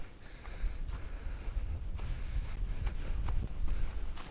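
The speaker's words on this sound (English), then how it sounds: "it is getting pretty windy" Steady wind roars and gusts across the microphone, a continuous low rumble with rustling bursts, loud and close, with no talking.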